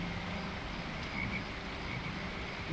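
A dense chorus of frogs croaks continuously in a mossy swamp in the video game Lord of the Rings Online, a steady rattling wall of calls with faint insect chirps layered over it.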